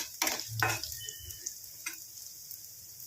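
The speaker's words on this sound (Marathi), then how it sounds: "शेंगाने खरपूस असे भाजा तळा याच्यामध्ये तेलामध्ये" Peanuts roasting in hot oil in a pan for poha give a faint crackling sizzle with a few brief stirring scrapes early on, then quieter scattered pops and ticks.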